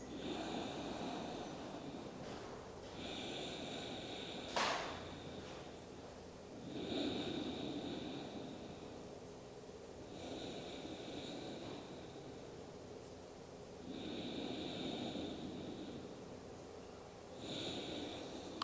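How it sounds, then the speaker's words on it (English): Alternate nostril breathing during a yoga session, with slow breaths drawn in through the right nostril while the left is held closed. Several soft, airy inhales and exhales repeat at a steady pace over a low background hum, with no talking. "closing off the left nostril so that you breathe in through your right"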